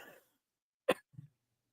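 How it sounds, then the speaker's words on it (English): A single sharp, close cough follows a brief breathy sound, then a soft low throat noise trails after it. "now I just keep coughing"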